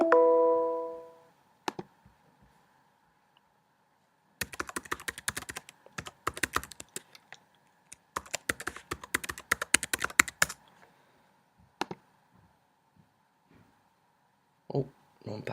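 A login password is typed on a computer keyboard in several quick bursts of close, crisp key clicks with short pauses between them, after a brief electronic chime at the start.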